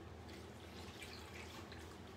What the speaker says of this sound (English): I add 2 cups of water.